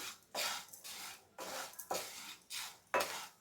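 Semolina being dry-roasted and stirred in a pan over medium flame for a homemade pancake batter, heard as repeated scraping strokes of a spoon across the pan in a steady back-and-forth rhythm, close and fairly quiet.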